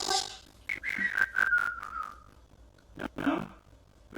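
Parrot whistles a sliding, falling tone close by, followed by short clicks and chirps, with brief quiet gaps and no talk.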